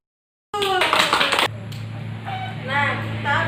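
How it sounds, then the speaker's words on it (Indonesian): Pupils in a classroom clap their hands in a short, busy burst of applause, followed by voices and noise from the room. "Tepuk tangan dulu."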